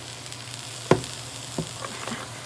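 Ground beef browning in a pan gives a low, steady sizzle, broken by a sharp clatter near one second and a few softer bumps as red beans go in.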